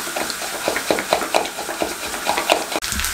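Egg batter with green chillies, coriander and flour being stirred in a bowl, a quick rhythmic series of wet slaps and scrapes at close range, evenly paced over a low hiss.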